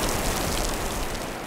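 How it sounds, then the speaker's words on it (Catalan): Rain falls in the mountains as a dense, even hiss of drops, loud and continuous throughout with no voices. "La pluja, que cau quan vol."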